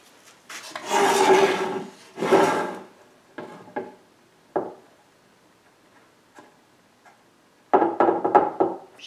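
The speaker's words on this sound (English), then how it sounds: "What I'm going to do now is use a spring clamp." Spring clamp being squeezed and set onto glued wood pieces on a workbench, producing scattered rubbing scrapes and sharp little clicks and ticks, quiet and close with pauses between.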